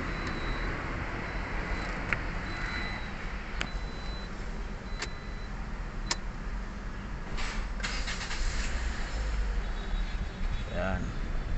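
A car engine runs at a steady idle to circulate transmission fluid, a continuous low rumble close by with occasional clicks and knocks, while people talk over it.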